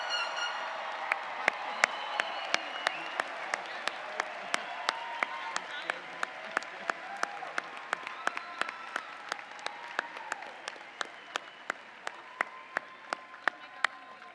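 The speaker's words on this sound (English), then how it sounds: "How about another loud round of applause for the class of" A large commencement crowd applauds the graduating class of 2024 in a steady wash of clapping, with a few sharp, close individual claps standing out above the distant mass.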